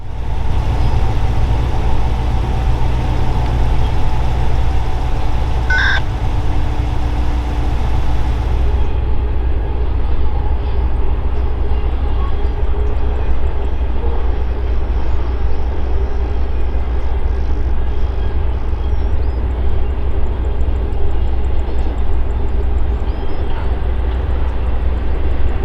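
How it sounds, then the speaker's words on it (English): A BNSF double-stack freight train rolls past in the North Dakota Bakken oil country, a loud, continuous rumble and roar that holds steady throughout with no break. "This time, it's a stack train headed all the way through to Seattle."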